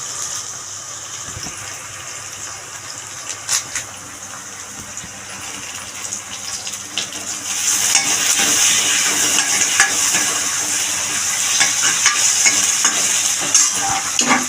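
Curry leaves and onions sauté in hot oil in a pan for a fish curry, a moderate sizzle that grows louder and fuller about halfway through, with scattered clinks and scrapes of stirring.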